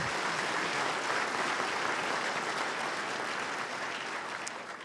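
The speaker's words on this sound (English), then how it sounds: "could I just have a round of applause for the organizers?" An audience gives the event organizers a steady, full round of applause, dense and even across the whole stretch before tapering off slightly at the close.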